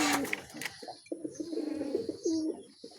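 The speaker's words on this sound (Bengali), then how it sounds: "এই যে আরেক জোড়া সিরাজি কবুতর।" A pair of black Sirazi pigeons coo softly and close by, a few low, rolling throaty calls in short bursts with brief gaps, faint against quiet room noise.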